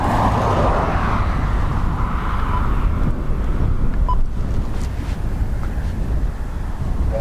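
Gusty wind at Dublin Airport buffeting an outdoor microphone, a loud, steady roar of rushing air that rises and falls slightly, with no voices.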